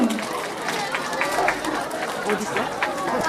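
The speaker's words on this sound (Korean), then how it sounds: "아이들의 응원 소리, 부모님들의 응원 소리." Children and parents cheering and clapping at a Korean school performance recital, a dense, lively wash of mixed voices and applause that stays steady throughout, close and fairly loud.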